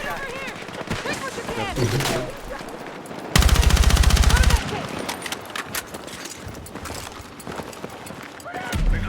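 Rapid automatic gunfire rattles in a dense burst in Battlefield 6, with scattered shots and game noise before and after while someone talks excitedly throughout.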